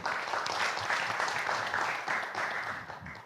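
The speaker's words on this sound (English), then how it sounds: "A big applause for that, Pa Sandy." An audience at a tourism and creative economy forum gives a warm round of applause, dense even clapping sustained throughout at moderate loudness.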